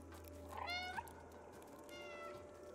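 In the video game Stray, a cat meows twice, one clear rising-falling meow followed by a fainter second one, close and soft over a low steady hum.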